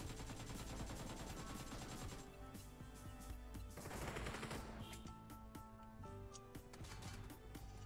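Rapid gunfire crackles in a PUBG team deathmatch sniper fight, dense bursts of shots and impacts running throughout at a constant loud level with game effects layered underneath.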